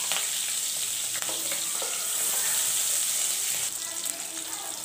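Tempering seeds sizzle and crackle steadily in hot oil in a kadai, a loud, continuous close frying hiss with faint clinks of stirring and no talking.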